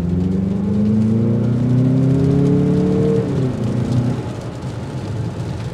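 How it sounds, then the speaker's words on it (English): A 2023 Mazda CX-50 Meridian Edition accelerating at full throttle, its engine note rising loudly and steadily from inside the cabin before easing off and fading into road noise, with no talking. "Now that was full throttle in the sense of we were going under 2 RPM, so it takes a little bit to get engaged."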